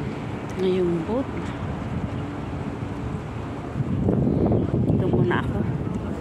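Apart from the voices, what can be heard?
wind at seaside on boat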